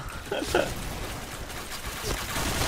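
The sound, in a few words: AUG A3 Samurai rifle gunfire from a video game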